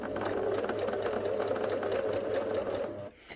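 A sewing machine stitches a curved seam on a fabric bunny, a steady close whirring hum that runs without a break and stops abruptly near the end, with no talking.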